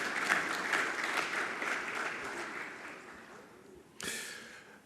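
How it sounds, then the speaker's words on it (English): Audience applause for working group speakers at a Namibian public-private forum, steady dense clapping that slowly thins and fades, then a brief renewed burst near the end. "Just another round of applause for our working group speakers"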